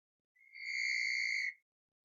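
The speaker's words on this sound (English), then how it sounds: "Blow the whistle." A sports whistle blown once in a single steady blast of about one second, clear and shrill with bright harmonics, near and alone against silence.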